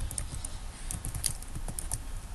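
Keyword typed on a computer keyboard: a quick run of soft, close key clicks in an irregular patter, with no voices over it.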